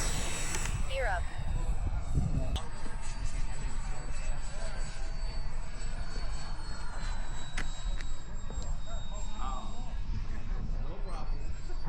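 A model airplane flies at Fritz Field as a continuous, steady engine drone and whine, with faint shifting tones as it passes. People talk now and then beneath the engine.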